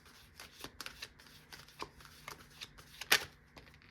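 Tarot cards are shuffled by hand in short riffling bursts and soft taps, close and quiet, ending with one sharper snap of the deck.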